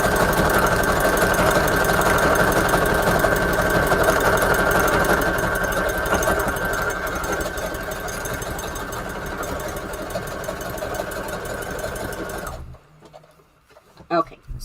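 A home sewing machine with its tension set to 3 stitches fabric for a Jane Austen Christmas junk journal cover, running in a loud, steady mechanical buzz for about twelve seconds before stopping, with a few faint clicks after.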